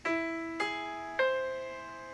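Three piano notes of an augmented chord struck one after another about half a second apart, each ringing out and fading, played alone and close.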